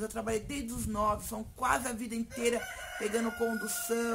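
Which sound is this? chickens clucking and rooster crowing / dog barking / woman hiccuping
chickens clucking and rooster crowing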